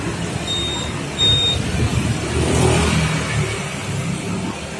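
A Honda Vario 150 scooter with an ignition fault that would not start is run for a test after repair. Its engine gives a steady, close mechanical hum that swells briefly in the middle of the clip.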